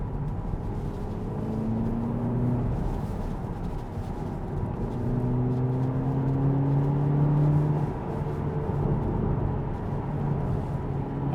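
Inside an Audi TT Coupe 2.0 TFSI S line S Tronic Quattro, the engine hums and rises in pitch as the car accelerates, with gliding tones over a steady cabin rumble at moderate volume.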